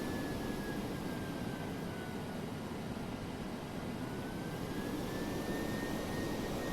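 Steady broadband jet roar from a simulated DC-8-73F's engines in Flight Simulator X, a constant even drone with a faint thin whine running throughout, no voices.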